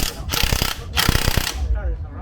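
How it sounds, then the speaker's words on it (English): Rapid ratchet clicking from a hand tool while car tyres are changed in a race paddock, two close bursts of loud metallic ticking separated by a short pause, then a low rumble. "now we're changing the tires"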